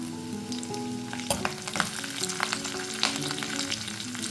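Curry leaves crackle and sizzle in hot oil in a pan while making methi dal, a steady close frying hiss with scattered sharp pops and a little stirring, no voices.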